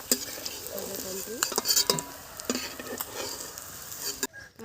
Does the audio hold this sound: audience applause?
no